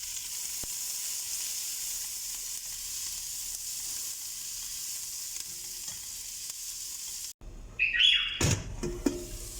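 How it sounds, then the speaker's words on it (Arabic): Onion frying in melting lamb tail fat gives a steady, even sizzle for several seconds, then a sharper burst of louder crackling and clattering near the end. "هنا من بلشت تذوب الليه راح اضيف البصل كانت وياها وتذوب مع بعض"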